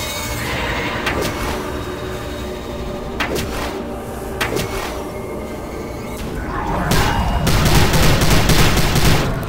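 Gunfire from enemies in the video game Prey: bursts of sharp shots at intervals, with a denser, louder barrage of fire near the end.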